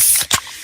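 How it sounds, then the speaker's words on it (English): Close, loud hissing spray as a can of Pepsi cola is cracked open, with a short sharp pop in the middle before the fizz settles. "Oh yeah, that's the sound of a freshly opened fizz-filled Pepsi."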